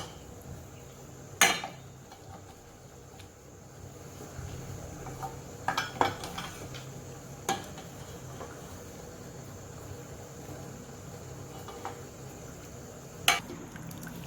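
Phalsa fruit being worked by hand to separate the pits from the pulp, with soft wet squishing and a few sharp clinks of utensil on a bowl at scattered moments against quiet kitchen background hum.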